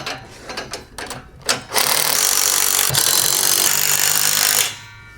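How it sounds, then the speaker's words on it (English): A 9/16 socket wrench tightens the U-bolts on a MicroSport Overland trailer: a few quick ratcheting clicks, then a long steady ratcheting rasp, close and loud, that stops abruptly. "Back to the 9/16 and tighten up these U-bolts."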